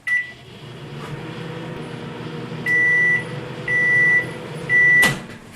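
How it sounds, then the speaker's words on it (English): A microwave oven hums steadily for a one-minute heating of water, then gives three loud, evenly spaced beeps at the end, close by, ending with a short click. "So let's start the microwave."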